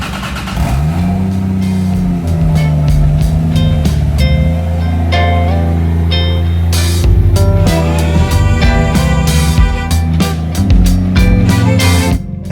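A turbocharged 2JZ Toyota Supra with an oil leak fires up and pulls away, its loud engine note rising and falling through a steady close drone of revs.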